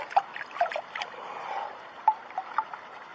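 Water rinsing down gold mining equipment clogged with heavy material outdoors, a faint trickling and splashing flow with a few small sharp knocks scattered through it.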